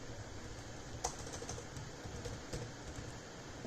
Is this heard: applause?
no